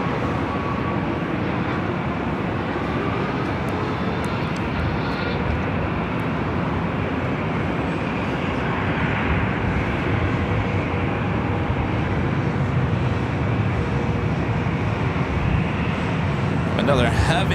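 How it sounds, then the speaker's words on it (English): Southwest Airlines Boeing 737-700 arriving at Los Angeles LAX from San Jose, its engines a steady broadband roar that holds through the whole stretch and swells slightly near the end, with outdoor wind and traffic-like rumble beneath. "This is Southwest Airlines 3606 coming in from San Jose on the"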